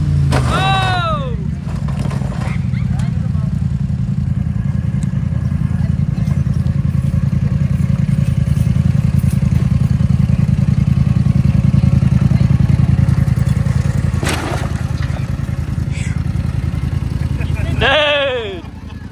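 A Polaris Sportsman ATV with a HighLifter lift revs hard through a wheelie at a mud race at Gregory Lake RV Park Mudfest, its loud, steady engine drone close by throughout, with a brief higher whine at start and end and voices talking over it.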